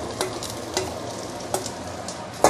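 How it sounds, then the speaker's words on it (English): Rice is stir-fried with half-cooked egg in a stainless steel wok for egg fried rice with whitebait. A continuous close sizzle runs throughout, with a few light scraping strokes of the spatula and a sharper clank at the end, and no speech. "while the egg is still half cooked, I'm going to add in the rice"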